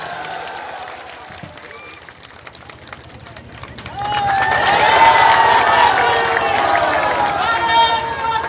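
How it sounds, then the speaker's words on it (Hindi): A crowd at a political rally in Begusarai bursts into loud applause and cheering about halfway in, rising from murmuring to a sustained roar of clapping and shouting voices. "तो जोरदार ताली से अपना आशीर्वाद दीजिए"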